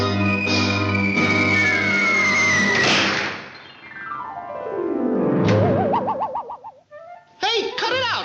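A cartoon pigeon coos in a 1942 Looney Tunes short, with a wavering, warbling coo rising out of loud cartoon sound effects, sliding tones and a voice.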